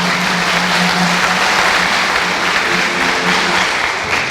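Loud, continuous applause from a congregation for the parish choirs at a church patronal feast, a dense steady wash of many hands clapping with no speech over it.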